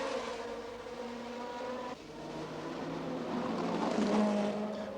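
1969 Formula 1 race cars stream past along the Monaco Grand Prix street circuit, a continuous engine roar that swells slightly toward the end as the cars pass close by.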